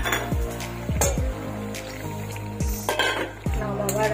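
Soybean curry in a pan as a little water goes in, sizzling and bubbling with sharp clanks of a spoon striking the pan at irregular intervals.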